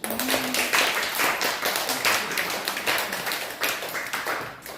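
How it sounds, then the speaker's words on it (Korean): A church congregation claps together in a steady burst of applause, loud and sustained for a few seconds, then tapering slightly toward the end. "박수 한번 주시죠."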